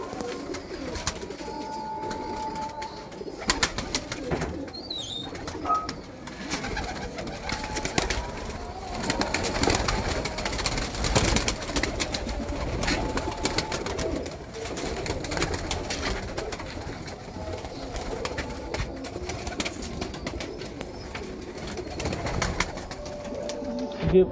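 Pigeons from a breeder's loft coo in soft, repeated bursts through a long stretch of steady background noise, with occasional voices and handling sounds nearby.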